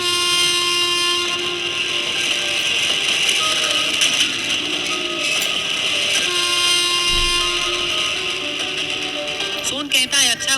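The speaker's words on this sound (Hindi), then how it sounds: "तभी ट्रेन शुरू हो जाती है।" A cartoon train starts moving in an animated story, with a loud, steady mechanical rumble and horn-like tones running throughout, backed by music or effects, ending with a brief rising flourish.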